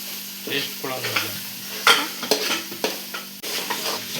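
A spoon scrapes and stirs food frying in a pan, producing uneven scraping strokes and clinks over a soft sizzle, close and clear with brief pauses between movements.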